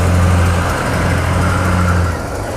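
A 1958 Rolls-Royce Silver Cloud engine idles close by, a smooth, steady low hum with a gentle rumble and no talk over it.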